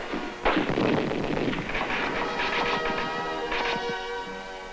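Infantry weapons fire at an army training range in Taiwan, a sharp report followed by a dense rolling roar of shots that sustains and fades, old film recording quality.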